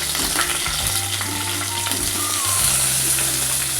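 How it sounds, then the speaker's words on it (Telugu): Onions and drumsticks sizzle loudly in a pan for sambar, a close, constant hiss of frying with occasional stirring scrapes and no talking. "ఇప్పుడు మనం ఇందులో ఉల్లిపాయలు వేసేసుకున్నాం."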